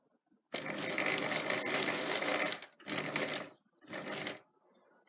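A sewing machine stitches fabric for bag handles in three close bursts, one long run then two shorter ones, separated by brief pauses as the fabric is turned.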